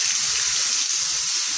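A garden hose sprays water over a motorcycle during washing, a steady close hiss of spray holding even throughout.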